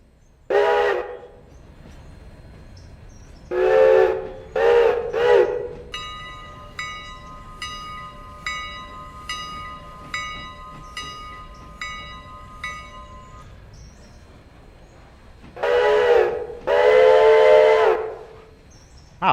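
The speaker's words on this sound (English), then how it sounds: "Ah, that's cool. The whistle chords move." Steam locomotive whistle in the Railroader train game, sounded in repeated short chorded blasts between bursts of hissing steam, loud and close, with no talking.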